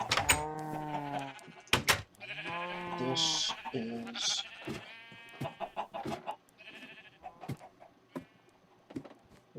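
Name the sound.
sheep bleating in video game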